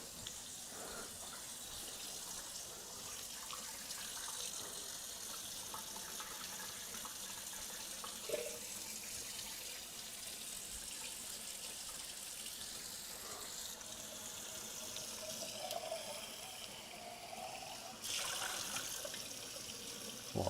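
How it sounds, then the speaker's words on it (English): Tap water runs steadily into a sink while a can is being washed, a faint, continuous splashing rush with small changes in flow and no talk. "Wash off this can."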